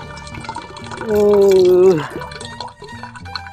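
Liquid carrying bleached ramen noodles pours out and splashes in a short wet gush, with a voice exclaiming over it partway through.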